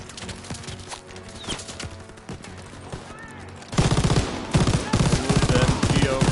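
Call of Duty WW2 battle with machine gun fire that grows into loud, rapid sustained bursts over a constant backdrop of other gunfire and combat noise, close and heavy.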